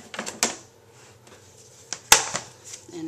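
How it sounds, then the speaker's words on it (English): Paper crackling as it's cranked through a die-cutting machine with a Spellbinders postage-stamp edge die: a few sharp pops and clicks, the loudest about two-thirds through, amid quiet mechanical creaks, with no talk. "You can hear the paper popping"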